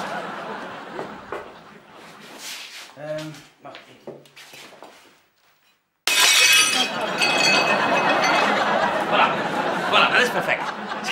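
Glass breaks into shards with a sudden loud crash that rings out in a long clattering spray, following quieter clinks and indoor talking.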